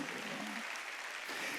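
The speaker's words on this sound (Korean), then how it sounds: "박수." Church congregation at a Wednesday worship service clapping together, a faint, distant, steady wash of applause lasting under two seconds with no talking over it.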